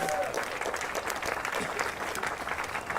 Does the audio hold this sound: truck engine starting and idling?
no